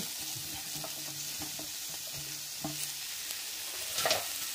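Mixed vegetables with beans and carrot stirred and fried in a pan for a dal, soft continuous sizzling under repeated scraping strokes of a spoon, with a sharper clatter near the end; close and fairly quiet.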